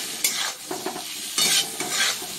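Potatoes and capsicum with salt and turmeric fry in a pan, with close scraping stirs of a spatula over a bright sizzle in short bursts.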